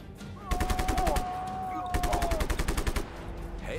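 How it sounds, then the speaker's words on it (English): Automatic gunfire in the action video game Just Cause 3 comes in two rapid bursts, each about a second long, loud and close, with a whistling projectile tone passing through. "Something is shooting and I have no idea what."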